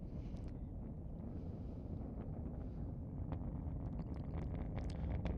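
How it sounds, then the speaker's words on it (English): Falcon 9 rocket lifting off from Cape Canaveral Space Force Station, its Merlin engines heard about four miles from the pad as a steady, deep, continuous rumble that swells slightly toward the end, with wind buffeting the microphone. "We're now hearing the rumble from the Falcon 9's Merlin engines here, about 4 miles away from the launch pad."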